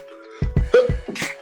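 A few quick bursty sounds like a sneeze or two, loud and close, with a brief tonal hum running underneath.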